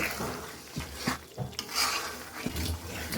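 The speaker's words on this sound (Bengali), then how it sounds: "মাছ দিয়ে এবার মশলা আর মাছ একসাথে কষিয়ে নেব" Shrimp and spices for a Bengali shrimp malai curry are stirred and fried in a pan: quiet scraping and rubbing strokes of a spatula come in irregular bursts over a soft sizzle, with no talk.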